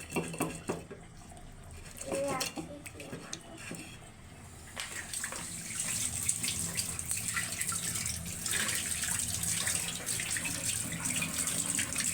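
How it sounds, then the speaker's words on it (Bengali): Stinging catfish being cleaned under running tap water, with handling and splashing at first, then a steady gush of water into a sink, close by, with faint voices in the background. "শিং মাছটা ভালো করে পরিষ্কার করে নিতেছে"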